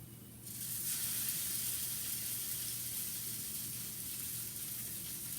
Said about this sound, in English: So we're going to put our salmon in. I'm going to just do 2 at a time just to show you and so it's not like clumped up in the pan.